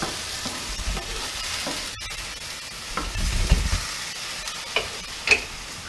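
Apples cooked down in wine are stirred around a pan over medium heat, giving a soft steady sizzle with occasional scraping clicks and light utensil knocks close by.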